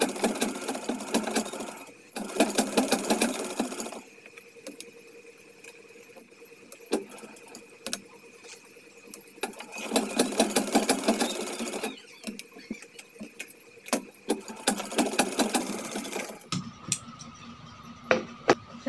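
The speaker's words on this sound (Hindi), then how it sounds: "अब कमर में भी हम सिलाई लगा लेते हैं इसी तरह से।" A sewing machine stitches the waist seam of a boat-neck blouse in bursts of steady rapid whirring, pausing between runs with clicks and handling noises, close and loud.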